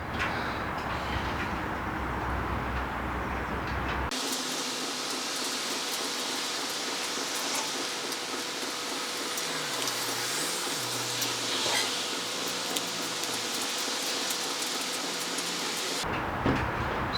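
A Harbor Freight plastic welding kit tool heating and melting filler material on a C5 Corvette bumper, a steady loud hot-air blowing hiss that runs for about twelve seconds and then cuts off, no talking.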